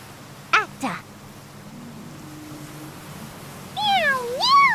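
Cat meowing in the video game Octopath Traveler II: two quick, high meows close together, then a pause with soft background tones, followed by a longer pair of rising, sing-song mews.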